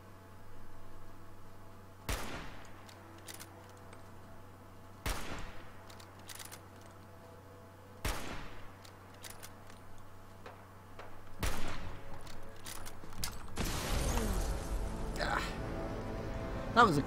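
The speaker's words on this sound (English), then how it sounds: "That was a cryo grenade." Sharp gunshots crack at steady intervals in Fallout 4, then a cryo grenade bursts with a broad hissing, crackling blast near the end, loud and close.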